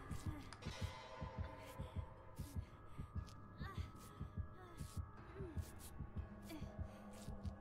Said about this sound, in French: Il y a toujours les battements de cœur.